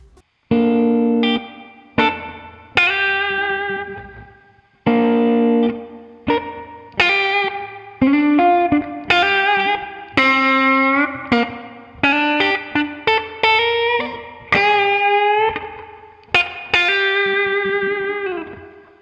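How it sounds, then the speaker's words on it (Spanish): Electric guitar through an Ibanez Tube Screamer overdrive plays a sequence of chords and picked notes, crunchy and saturated, each attack ringing out before the next. "vamos a cargar el clásico Ibanez Tube Screamer"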